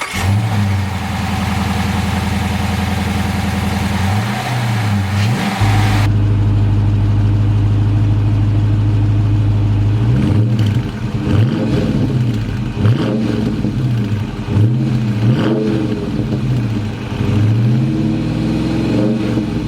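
A 2023 Dodge Charger R/T's 5.7-liter HEMI V8 idles with a deep rumble, then revs repeatedly in loud rising and falling bursts, close up.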